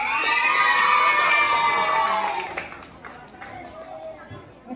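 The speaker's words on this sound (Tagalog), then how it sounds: "Bakit hindi po ninyo sabay-sabay palakpakan at sigawan si Miss Francine Villas?" A pageant audience at a Miss Gay contest in Pitogo, Quezon claps, cheers and shouts loudly. The noise peaks at first, then fades into scattered shouts and chatter.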